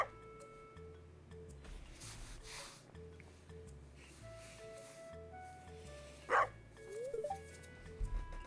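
A dog in the farming game Stardew Valley gives a short, faint burst of barking and yips near the end, over quiet looping game music.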